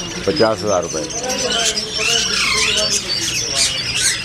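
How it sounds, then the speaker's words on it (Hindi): Blue budgerigars squawk and chatter at a bird market, with several birds calling close by while someone talks loudly over them throughout. "ब्लू मोंग पैरट बेहतरीन"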